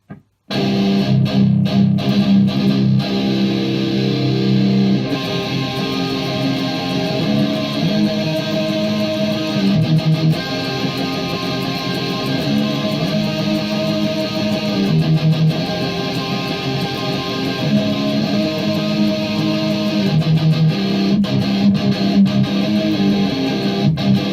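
Heavily distorted, high-gain electric guitar tuned to drop C chugs loudly through an amp model mimicking a Mesa Boogie Triple Rectifier, with dense low riffing and palm-muted rhythms, no voices.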